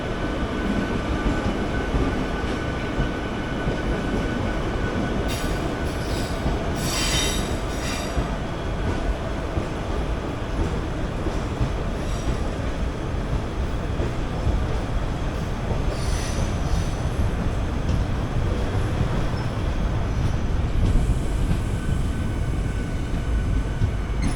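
Madurai-Guruvayur Express, a diesel-hauled train, departing Kollam station, with a steady loud roar of rolling wheels and carriages and occasional high squeals from the rails, continuous and close throughout with no talking.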